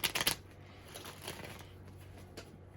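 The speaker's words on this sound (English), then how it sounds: "I've already pre-shuffled, but just a couple more." Tarot cards are shuffled by hand in a quick riffle-like burst, followed by softer rustling and faint handling noises.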